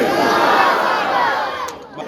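Large crowd at a political election rally roaring a loud collective shouted response to a Takbir slogan call, a dense sustained swell of voices that fades toward the end.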